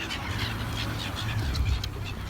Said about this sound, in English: there's a lot of coots and moorhens